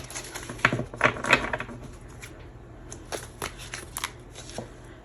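Tarot cards being shuffled, quick riffling bursts near the start followed by softer, scattered card flicks and taps, close and fairly quiet.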